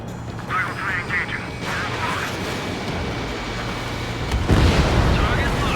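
Jet aircraft roar and missile explosions in the Ace Combat 7 video game form a dense rumbling wash of engine noise, with a louder blast swelling near the end, under radio voices talking.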